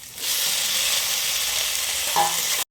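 Tomatoes sauté in a pan for sorakkai paruppu kootu, a steady close sizzle and fry hiss lasting a few seconds, with a brief stir scrape near the end before it cuts off.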